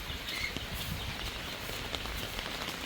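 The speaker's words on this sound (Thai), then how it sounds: "ฝนตก" Steady rain falling outdoors during a rainy day near rice paddy fields, a soft continuous hiss of drops with faint scattered patters, fairly quiet and unbroken, with no talking.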